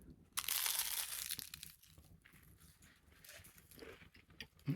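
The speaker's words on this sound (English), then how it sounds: "Listen to this perfect crunchy sound." A crunchy banitsa pastry being cut, giving a brief, close burst of crisp crackling and crumbling that fades into quieter rustles.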